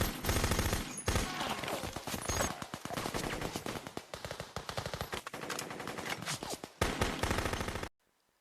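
Rapid bursts of automatic gunfire in a dramatized Congo civil war battle scene, dense overlapping shots with short pauses, loud and continuous for about eight seconds before stopping abruptly.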